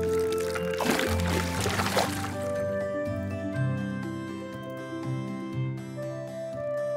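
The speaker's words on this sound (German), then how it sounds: "Lasst uns das Wasser von einem Becher in den anderen füllen." A cartoon splash of water poured from one cup into another sounds briefly near the start, then gives way to bright, tinkling music notes that carry on alone.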